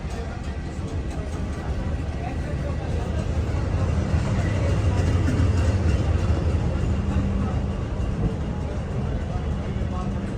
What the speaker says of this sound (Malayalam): ഡൽഹി സറൈ റോഹില്ല സ്റ്റേഷനിലേക്ക് ഇതാ ട്രെയിൻ എത്തിയിരിക്കുകയാണ്